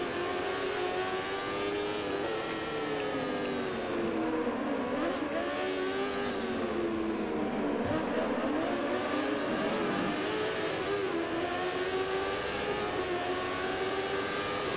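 A Moto2 motorcycle engine racing at the Aragon circuit in MotoGP 15, whining loudly and continuously as it rises and falls through gear changes, with other bikes droning close by.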